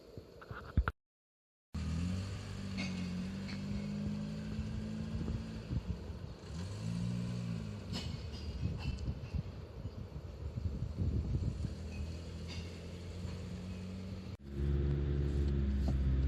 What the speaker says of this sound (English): we'll just go for a little drive